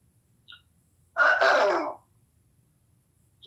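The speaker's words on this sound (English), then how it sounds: "Let me clear my throat." A single throaty clearing of the throat, short and close, with quiet surroundings before and after.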